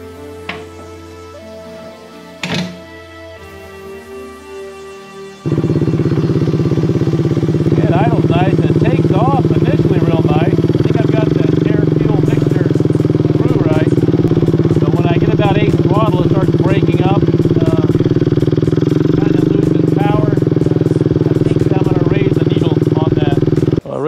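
Custom-built motorcycle engine with a homemade ignition timing system starting after a few quiet seconds, then idling loud and steady close by with a rough, throbbing note, while someone talks over it.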